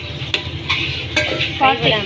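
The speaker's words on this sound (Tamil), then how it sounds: "பூண்டு, பச்சை மிளகா வந்து போட்டு சாட்டே பண்ணணும்" Garlic and green chili sizzle in a hot pan while a utensil stirs and scrapes against the metal in a few quick strokes.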